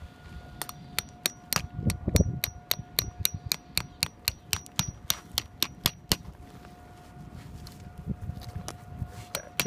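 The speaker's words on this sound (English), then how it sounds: "Push that down, push that down, and then hammer further." Round top metal sod staples hammered into the ground outdoors, a rapid run of sharp ringing metallic strikes, evenly paced and close, thinning out toward the end.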